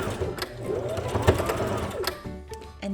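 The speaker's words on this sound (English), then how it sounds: "and then you want to sew, you can maybe start at like 1/2 inch." A sewing machine stitches a cotton gauze face mask, running in a steady, close mechanical whir for a few seconds before slowing near the end.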